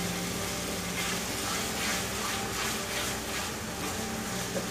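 Cashew masala being fried and stirred in a pan for raw banana kofta curry, a loud continuous sizzle close by with rhythmic surges from the stirring, no voices.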